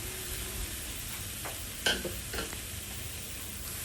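Ground curry paste for paneer butter masala goes into a hot pan, with a continuous sizzle joined by a couple of short, sharp scraping and stirring knocks near the middle.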